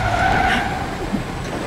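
A truck's tires skid and squeal in the Spider-Man PS4 game, a steady, loud screech held for the whole short stretch.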